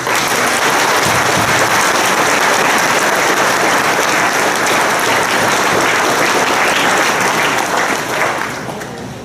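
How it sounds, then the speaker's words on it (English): Sustained loud applause from a graduation audience honouring retiring school staff, dense clapping filling the hall for several seconds before beginning to fade at the end. "they deserve a round of applause of appreciation and thanks"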